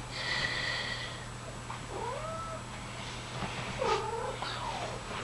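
A house cat gives two or three drawn-out meows, close and moderately loud, over a steady low hum, after a brief high-pitched squeak at the start.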